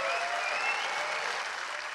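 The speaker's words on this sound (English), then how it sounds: "Thank you for that applause." An audience at a James Cameron Q&A for Terminator 2 3D applauds in a steady, continuous wash of clapping that tapers slightly toward the end, with no talk over it.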